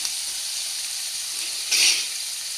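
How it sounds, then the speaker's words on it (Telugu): Onion pieces frying in a pan for Andhra-style cashew mutton curry give a steady soft sizzle and hiss, swelling briefly louder near the end. "ఈ ఉల్లిపాయ ముక్కలు బ్రౌన్ కలర్ వచ్చే వరకు వేసుకోవాలండి"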